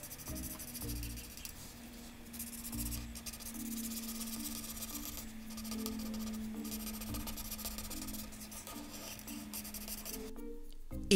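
A pencil or marker rubs and scratches across paper while colouring a drawing of a cartoon character, producing faint, close, steady strokes that continue without pause and end with a brief scrape.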